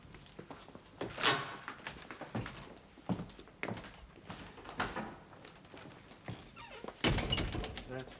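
A front door in a period household opens and closes with several dull wooden thunks and a firmer shut near the end, set amid quiet room noise.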